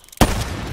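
A single sharp, loud sniper rifle shot fired in Black Ops 3 Search and Destroy, with a sudden crack that decays into a long, dense rumbling tail; nobody speaks.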